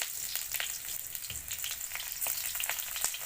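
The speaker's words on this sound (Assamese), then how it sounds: "এতিয়া পিঁয়াজটো অকণমান ভাজিম" Onion frying in a pan with bay leaf and five-spice, a steady close sizzle with faint stirring scrapes and crackles throughout, no voices.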